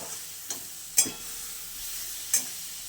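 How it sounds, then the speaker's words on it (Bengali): Pointed gourd (potol) flesh fries in hot oil in a pan, giving a quiet steady sizzle broken by three or four sharp clinks of stirring. "প্রথমেই আজকে আমি পটলের শাঁস ভাজাটা দেখাচ্ছি"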